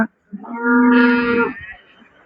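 A native buffalo lows once at the Karungalpalayam cattle market in Erode, a long, loud, close moo with a deep harmonic tone that lasts about a second before fading.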